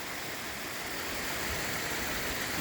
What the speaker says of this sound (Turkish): bu şelaleye geldik